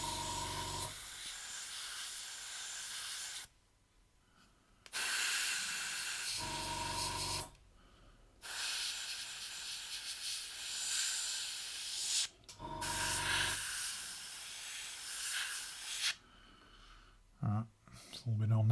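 An airbrush spraying paint onto a scale model, with long steady hissing bursts broken by short pauses, close and fairly loud.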